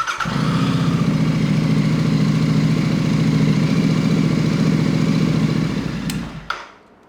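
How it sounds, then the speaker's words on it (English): A Royal Enfield 650 twin sits in neutral, idling to warm up, with a steady, close, thrumming engine note held evenly for several seconds before it is switched off and fades out. "Make sure your bike's in neutral and give it a good couple of minutes just to warm through."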